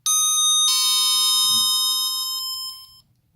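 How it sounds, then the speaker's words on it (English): An OTIS elevator floor indicator rings a loud, sustained electronic chime with bright overlapping tones that hold steady for about three seconds before cutting off, close up and without talk. "It will chime once. And then keep on chiming twice until it gets a signal."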